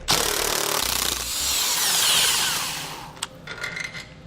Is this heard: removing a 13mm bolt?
yes